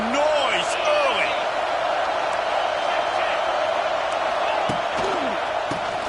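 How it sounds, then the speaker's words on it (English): Stadium crowd noise in a college football video game against Penn State, a dense continuous roar of the crowd with scattered whistles and sharp thuds, under a commentator's voice. "This crowd bringing the energy and noise early."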